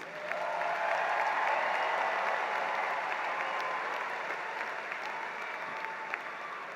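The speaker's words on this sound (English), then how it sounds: "You may now applaud all of these outstanding students." A crowd at the North Atlanta High School 2019 graduation applauds the graduating students, a dense, sustained roar of clapping with faint cheers that slowly eases off toward the end.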